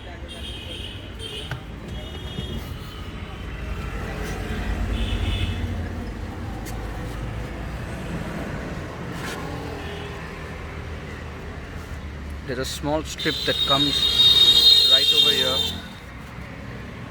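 Road noise heard from inside an MG Astor while driving: a steady low rumble under someone speaking, swelling briefly, with a sharp buzzing tone rising near the end.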